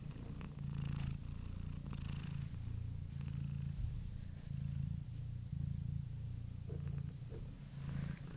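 A pet cat purrs steadily while being stroked, a close, low rumbling purr pulsing in regular breaths throughout, with soft rustling of hands on fur and no talking.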